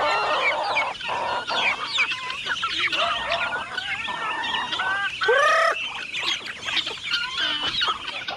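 Chickens cluck and squawk continuously up close as they peck at feed fallen on a cement floor, their calls overlapping in a busy chorus with one sharper, rising cry partway through.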